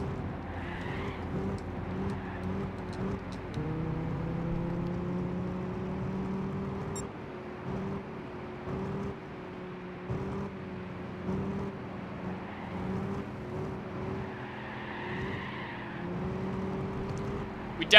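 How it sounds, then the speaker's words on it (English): A classic muscle car engine in Gran Turismo 6 drones and revs through the gears, pitch climbing and dropping repeatedly in a steady, continuous roar. "Listen to that engine."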